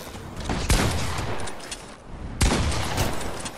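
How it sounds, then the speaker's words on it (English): Gunfire from a video game comes in two loud bursts of rapid shots, each trailing off into an echoing rumble, with no voices over it. "don't know why I'm firing from that far away"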